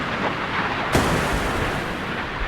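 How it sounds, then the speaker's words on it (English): Missiles and gunfire in a naval combat game, with Arleigh Burke II and Iowa ships against a Russian fleet: a steady rumbling roar of distant firing, broken by one sharp, loud crack near the middle. "those are missiles aiming at them"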